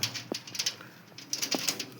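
A red-headed pigeon, white-eyed, gives short low coos twice in a quiet setting, with soft rustling and faint high chirps around it.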